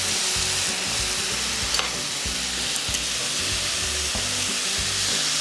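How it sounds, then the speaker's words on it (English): Beef and mushrooms seasoned with soy sauce, garlic and brown sugar stir-frying in a pan for japchae, a loud, continuous close sizzle with a few sharp utensil scrapes. "Quickly stir fry them and add some ground black pepper to it"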